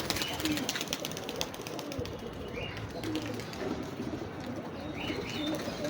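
Pigeons, young birds trying to take flight, coo repeatedly amid steady rustling and flutter-like noise, with chirps scattered throughout and a voice talking faintly in the background.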